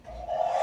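A dust collector in a woodturning shop runs with a steady, droning motor hum that swells slightly louder over a brief stretch, close and continuous.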